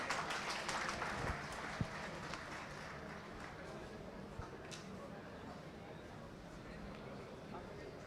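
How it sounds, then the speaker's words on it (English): Applause at the opening ceremony of the 14th Asia Pharma Expo in Dhaka, a faint, distant crowd clapping steadily throughout, thinning slightly toward the end, with no voices over it. "A big round of applause."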